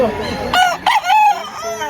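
A six-month-old Bulik-colored gamecock crows loudly and close by at a poultry market in Lipa, Batangas, one full cock-a-doodle-doo with rising and falling notes, and a voice sounds faintly in the background.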